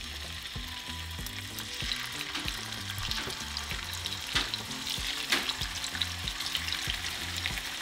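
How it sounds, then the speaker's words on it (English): Beef ribs sear in hot oil for a beef rib and nopales dish, giving a steady, close, dense sizzle with small crackling pops throughout, over a faint rhythmic musical bed and no talking. "once the oil is hot, we're going to place our ribs."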